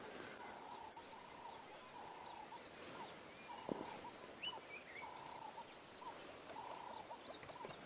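A weaver bird calls in the bush on an early-morning safari drive, faint repeated chattering notes against a busy chorus of other birds, somewhat distant and under low background noise.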